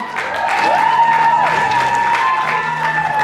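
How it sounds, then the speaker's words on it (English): A crowd at a 2023 showcase event claps and cheers under a sustained musical tone with sliding pitches, the clapping steady throughout. "Everybody clap it up one more time."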